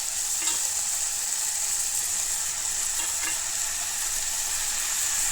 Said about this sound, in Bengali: এখানে এগুলোকে দিয়েই আমি কষিয়ে নেব